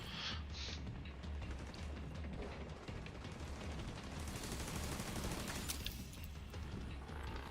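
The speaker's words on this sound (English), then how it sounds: "I like spawn camping with a machine gun." Sustained MG42 machine gun fire in the WWII shooter Hell Let Loose, a dense continuous rattle of rapid automatic bursts with booming low-end rumble, steady and loud across the whole stretch with no voices.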